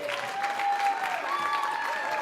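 Audience applause after a jazz band performance at an SFJazz event, steady clapping with a sustained musical tone and faint voices underneath.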